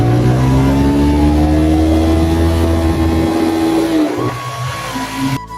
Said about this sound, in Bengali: কি জোরে বাইক চালিয়ে গাইস, এরকম জোরে কেউ বাইক চালায় কখনো?